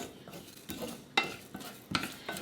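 Coriander seeds roasting over medium heat in a pan, stirred with a utensil that scrapes and clinks in several short strokes, fairly close and soft with no talking.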